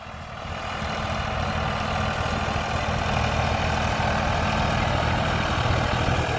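A Farmtrac 60 Deluxe tractor runs a rotavator while preparing a field for wheat sowing, giving a loud, steady, deep engine drone with broadband churning noise that holds without a break.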